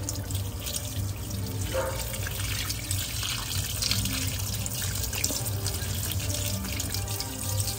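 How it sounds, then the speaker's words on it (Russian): Octopus rinsed under running tap water in a kitchen sink, a steady hiss and splash of the flowing stream with faint handling noises, no talk. "Сейчас мы его под проточной водой почистим, остатки кожи."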